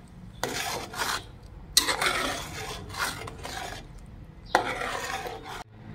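Salt is stirred into rice in a metal pot, with a spoon scraping and rubbing in several distinct bursts separated by short pauses, heard close with no talk.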